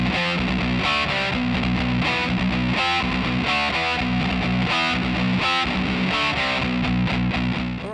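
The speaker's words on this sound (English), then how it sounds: "next part to learn, and last part to learn, is riff 3 in this end section," Heavily distorted electric guitar plays a chugging end-section riff, with power chords thrown in, loud and continuous throughout with no voices.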